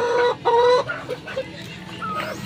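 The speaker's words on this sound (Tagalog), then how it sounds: "May mga manok dito. Ayan o, may mga manok." Chickens cluck close by in short bursts, several hens calling with brief pauses between.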